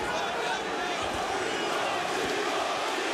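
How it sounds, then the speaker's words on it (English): Bellator arena crowd roaring for fighter Thibaut Gouti during a mixed martial arts bout, a dense, continuous loud wash of cheering with a commentator's voice running over it. "listen to this crowd get behind Thibaut Gouti"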